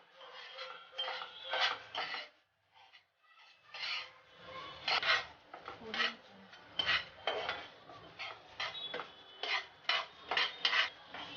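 Sesame seeds stirred while roasting in a frying pan, a dry gritty rasping scrape repeating in uneven strokes with a brief pause near the start, close and fairly loud, no voices.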